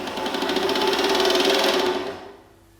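A metal band saw whose blade-support bearings are dirty makes a steady whirring hum with a faint rhythmic ticking. It runs for about two seconds and then winds down to silence.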